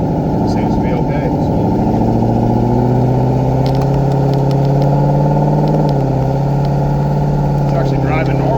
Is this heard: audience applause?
no